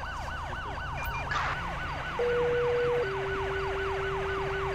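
An ambulance siren in GTA V LSPDFR wails in a fast repeating sweep, loud and continuous, shifting briefly to a steady tone partway through, with no talking.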